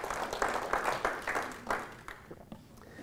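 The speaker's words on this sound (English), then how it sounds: "Clap on that." Faint, sparse applause from an audience at a Tea Party talk in Laguna Woods Village, with scattered claps that fade out toward the end.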